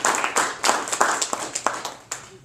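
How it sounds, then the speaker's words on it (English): Sparse applause from a small audience at a county commission candidate forum, a handful of distinct, close hand claps with gaps between them that thin out toward the end. "Let's give our candidates a round of applause"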